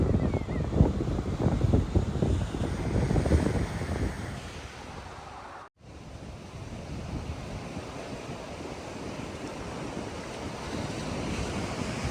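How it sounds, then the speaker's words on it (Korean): Steady roar of surf breaking and washing ashore at Chodo Beach on the east coast of Korea, mixed with gusty wind buffeting the microphone, continuous and fairly loud with no voices. "여기도 파도가 장관이네요"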